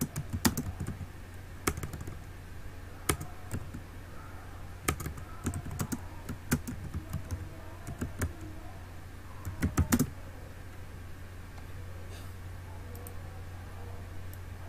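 Typing on a computer keyboard runs in irregular bursts of close, crisp key clicks over a steady low hum, with denser clusters near the start and around the tenth second, then fainter.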